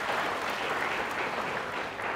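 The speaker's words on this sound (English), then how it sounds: "let's have a round of applause for Cloud9's presentation" Audience at a corporate tech showcase giving a round of applause after a team's presentation, even, dense clapping from many people, moderately soft and slightly distant, continuous without talk.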